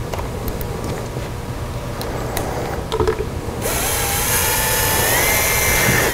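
American Sanders Super 7R floor edger dressing its rubber pad on a flat floor, a steady motor drone that turns louder and harsher with a bright grinding hiss partway through.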